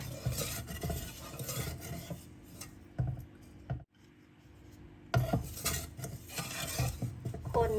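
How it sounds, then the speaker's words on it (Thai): A spoon scrapes and rubs around a pot of jicama mixture over low gas heat, in repeated rasping strokes with a short quiet pause midway before the stirring resumes. "ใช้ไฟอ่อนค่ะ แล้วเราก็คนนะคะ"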